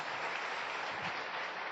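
An audience applauds an award recipient at an Indonesian Tiens business gathering, a steady, dense wash of clapping that holds evenly throughout, moderately distant and without speech.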